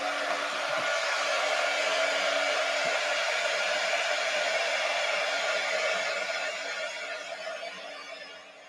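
A hair dryer blows a steady, even whoosh over a piece of mixed media artwork, close and constant, then tapers off slightly toward the end.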